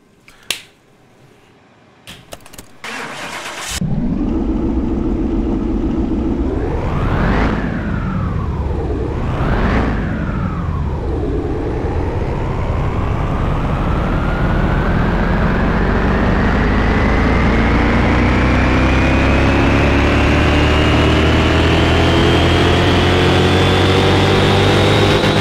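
A Ferrari V8 fitted into a 1968 Fiat 500 cranks and fires up after a few clicks, revs twice sharply, then settles into a loud, steady, close-up running drone that slowly climbs.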